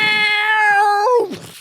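A cat yowling sound effect in a tabletop role-playing game: one loud, drawn-out yowl that holds steady, bends upward near the end, then drops away and fades.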